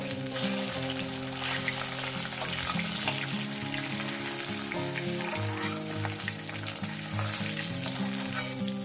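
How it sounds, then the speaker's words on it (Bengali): Fish pieces fry in hot oil in a pan, a dense, continuous sizzle and crackle that stays close and loud throughout, with occasional stirring and scraping sounds. "আমার মাছগুলো ভাজা হয়ে গেছে বেশি কড়া করবো না"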